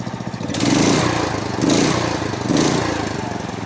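The engine of a Sears 16/6 Rough Rider lawn tractor runs loud and close, a steady rough drone that swells and fades in repeated surges.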